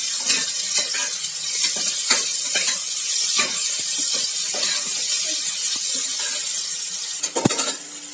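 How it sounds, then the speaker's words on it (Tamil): Sliced onions sautéing in ghee for Tirunelveli kuska, a steady close sizzle with occasional stirring scrapes throughout and a sharper clatter near the end. "ஒரு ரெண்டு பெரிய வெங்காயத்தை இப்படி நீள நீளமாக கட் பண்ணி வச்சுருக்குறோம் அதையும் சேர்த்து நல்லா வதக்கி விட்டுக்கலாம்"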